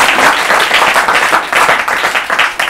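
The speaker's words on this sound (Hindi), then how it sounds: "ताली बजाइए।" A studio audience on an Urdu literary quiz show claps loudly and close, a burst of rhythmic, fairly even applause that continues throughout without talk.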